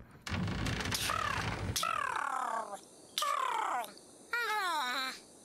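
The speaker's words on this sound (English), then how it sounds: "I hear a bird, Holmes." Bird calls from Sherlock Holmes: Nemesis, a series of separate chirping, warbling cries with bright descending tones, each lasting about a second and separated by short pauses, fairly close and clear.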